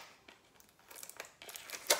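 Tape-sealed packaging is pulled and torn open, giving quiet, scattered crinkling and ripping bursts that build to a sharper tear near the end, with no talking.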